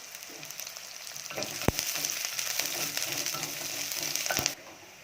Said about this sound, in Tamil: வெங்காயம் போட்டு நல்லா பொன்னிறமாக வறந்ததுக்கப்புறம்